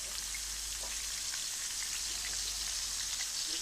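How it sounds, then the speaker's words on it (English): Continuous sizzling and crackling of a flounder frying in a small pan, a steady hiss with small pops, close up and uninterrupted by speech. "Fry off our flounders now."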